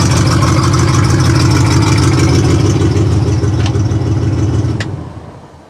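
A car engine running after a firing order check, not under load, idles loud and close with a steady mechanical rumble, then fades away near the end.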